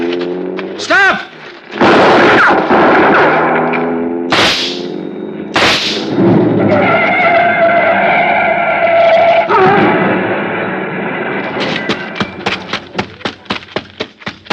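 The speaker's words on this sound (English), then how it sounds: "Stop or I'll shoot!" Gunshots ring out in a radio drama: two sharp, loud shots between shouted lines, then a rapid volley of cracks near the end, with voices speaking throughout.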